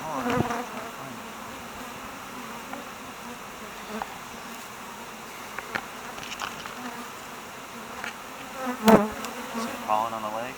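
Honeybees buzz around an open beehive, a close, steady insect drone with individual bees whizzing past, a louder pass near the end.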